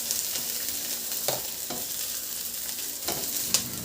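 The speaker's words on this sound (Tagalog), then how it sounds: "Igisa ko na rin yung sibuyas." Garlic and onion sauté in hot oil in a wok, giving a close, continuous sizzle punctuated by a few spatula scrapes and taps.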